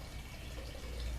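Liquid for a homemade household cleaner made with vinegar, baking soda, borax and water is poured into a container, giving a faint, steady trickle and splash with no talking.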